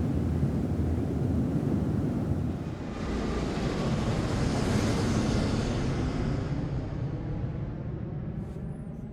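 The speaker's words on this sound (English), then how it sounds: "the sound of the airplane dies away slightly" An airplane roars loud and broadband, holding steady before gradually fading and thinning out toward the end, with no voices present.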